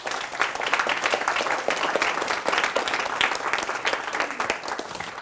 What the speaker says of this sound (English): I'd like to give them a round of applause, please